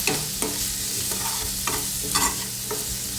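Tomato, turmeric and coriander being stirred in a pan for a cauliflower, potato and pea mixed vegetable dish, with steady spoon scrapes over a low sizzle and a few sharper knocks.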